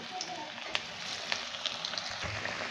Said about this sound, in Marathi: आता हे राहिलेले आपण दुसरे बॅच तयार तळून घेणार आहे